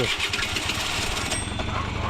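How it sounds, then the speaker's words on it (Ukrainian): A restored old Japanese Honda Tact AF moped is started nearby, its small engine catching and then running in a rough, buzzy rhythm, with someone talking over it. "Заводь, а ну як він заводиться."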